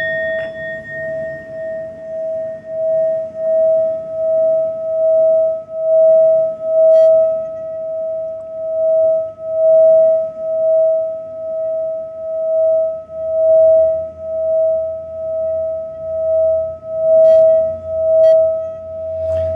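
A steady high-pitched pure tone of Anahata nada meditation sound rings on continuously and alone for about twenty seconds, smooth and unbroken, with faint low rumble beneath.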